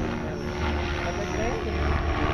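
A KDS Innova 550 RC helicopter flies nearby, its rotor and motor giving a loud, steady whirring drone throughout, with people talking over it.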